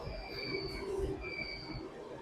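A monorail train at a Kuala Lumpur station gives a sustained high-pitched squeal over a low rolling rumble, fairly quiet and steady.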